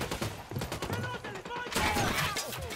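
Gunfire in the video game Ghost Recon Wildlands, a chaotic fusillade of overlapping shots and crackling bursts, some distant and some closer, with a voice talking over it.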